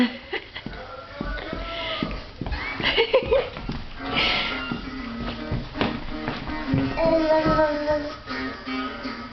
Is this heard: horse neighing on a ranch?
yes